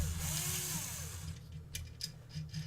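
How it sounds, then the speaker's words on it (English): Close, whining buzz of a power screw gun backing out a screw on an automatic door bottom, running steadily for over a second, then stopping, followed by a few light clicks and handling taps. "Now I will use the screw gun."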